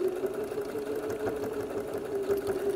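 A sewing machine quilting fabric under foot-pedal control, its motor running in a steady mid-pitched whir with a fast rhythmic needle chatter, close and continuous without speech.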